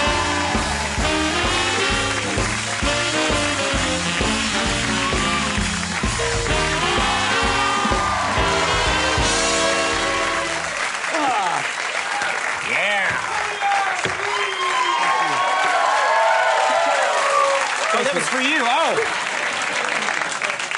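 A television talk-show studio audience applauds and cheers loudly as an actor is welcomed, with band music playing under the crowd for the first half before the applause continues more on its own.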